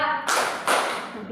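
Two bursts of hand clapping from a group of children in a classroom clapping game, loud and close, the second clap set following a short pause.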